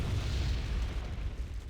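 Heavy mortar artillery blasts in the war strategy game Wargame: Red Dragon, deep rumbling booms rolling into one another across a short stretch, loud and low with no pause between impacts.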